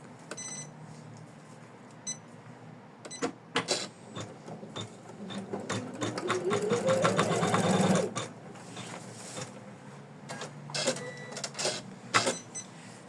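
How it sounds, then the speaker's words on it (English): An embroidery machine stitches an in-the-hoop heart ornament with rapid, steady mechanical clatter that builds in density and loudness, broken by pauses, clicks and brief beeps. "where your machine is stitching."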